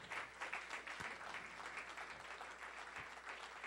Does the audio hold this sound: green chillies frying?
no